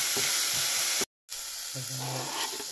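Food frying in a pan, a steady hissing sizzle that fills the clip, briefly cut off, with a faint voice near the end.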